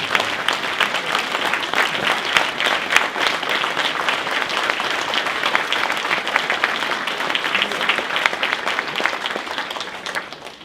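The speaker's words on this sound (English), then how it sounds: "So a round of applause for the nominees for senior." An audience at a civic association's 50th-anniversary awards ceremony claps steadily for teacher-of-the-year nominees, a dense, sustained round of applause that fades at the end.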